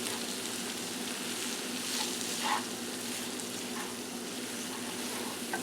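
Hot samosa filling sizzles steadily in a pan as finely chopped Roma tomatoes are stirred in, a close continuous frying hiss with faint spoon scrapes, no voices.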